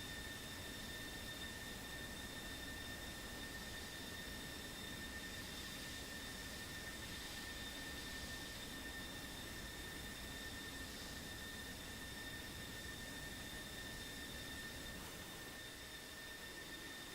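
A jet aircraft in the DCS combat flight simulator roars overhead as a steady, loud, unbroken wash of engine noise with a faint whine, holding level for the whole stretch with no talk.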